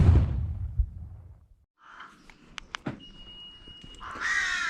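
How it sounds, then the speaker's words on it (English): Crows caw loudly outdoors in a few sharp, separate calls, with a rustling, rushing noise at the start and a rising whoosh near the end. "Those crows still won't stop being loud."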